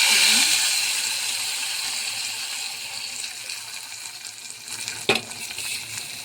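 Tempering of garlic, green chillies, curry leaves and cumin fried in oil is being stirred into mango dal, a steady soft sizzle with scraping stir noises and a sharper clatter near the end.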